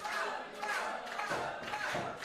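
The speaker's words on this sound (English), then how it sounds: "I know he hears that crowd" A wrestling match crowd roars and cheers continuously, a dense and fairly loud wash of voices with swells of shouting across the whole stretch.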